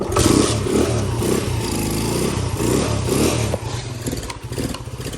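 A Suzuki LTZ400 ATV engine running loud and close after a kick-start, with a steady rough putter and a lumpy, pulsing idle that dips slightly toward the end.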